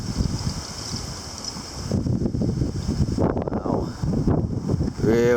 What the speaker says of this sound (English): Really decent gust, I would say.